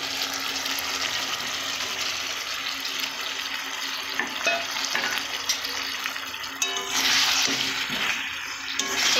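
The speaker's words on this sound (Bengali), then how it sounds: "এইভাবে কষে নেব কিছুক্ষণের জন্য। ভেজে রাখা কপিগুলো দেব" Fried cauliflower florets being stirred and sautéed in a pan make a continuous soft sizzle with scraping and stirring noises, close and steady throughout.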